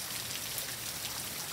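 Steady morning rain falls in a dense, even hiss of drops striking surfaces, continuous and unbroken with no voices.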